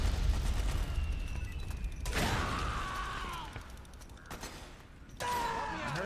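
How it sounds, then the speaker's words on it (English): Gunfire and mechanical clatter in a Metal Gear Solid video game, with two sharp bursts of shots and metallic ringing over a low rumbling game background, moderately loud. "I heard gunfire over there"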